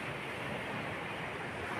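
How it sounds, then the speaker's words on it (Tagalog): Sea waves roll near a wooden fishing boat in rough water, a continuous broadband wash of surf and wind at steady, moderate loudness with no distinct breaks. "So medyo palutay na guys ang alon."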